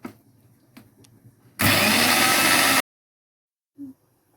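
Kharkol leaves, green chillies and garlic ground to a paste in an electric grinder, one loud whirring burst of a bit over a second between quiet handling noises.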